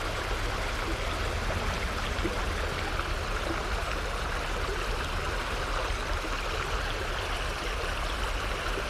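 A river flows steadily beside a newly built embankment, an even, continuous rushing and gurgling of water at moderate distance, with no talk over it.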